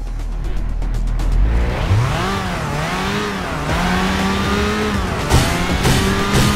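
A game car in Crackdown drives with a steady engine drone whose pitch rises and falls as it revs and shifts, loud and continuous throughout, with a brief sharper knock near the end.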